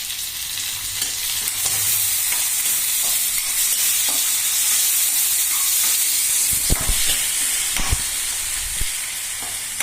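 Finely chopped tomatoes and onions frying over a low gas flame in a pan for dahi fry, with a continuous sizzle and a few soft stirring knocks toward the end.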